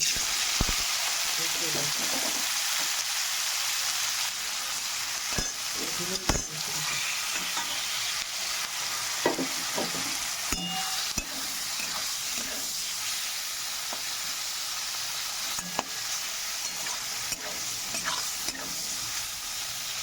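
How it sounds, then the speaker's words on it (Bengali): Prawns frying in oil in a pan give a loud, steady sizzle throughout, punctuated by repeated scraping stirs and occasional crackles, with possible faint voices in the background. "চিংড়ি মাছটা আমি লাল লাল করে ভাজা করে নেব"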